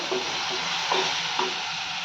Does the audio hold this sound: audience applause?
no